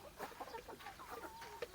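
Chickens cluck softly while pecking at mixed feed, a quiet scatter of short, close clucks and murmurs in irregular rhythm.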